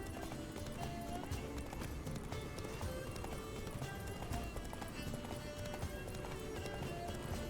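Horse galloping in The Witcher 3: Blood and Wine, a rapid, continuous clatter of hooves close up, running steadily throughout beneath game ambience and a faint whinny.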